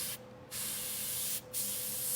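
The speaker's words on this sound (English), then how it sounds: "spray in between the little thingamabobs, Jeff" Short bursts of spray paint hiss onto a taxidermy fish, aimed between its fin rays, with two distinct sprays separated by a pause over a steady low background hum.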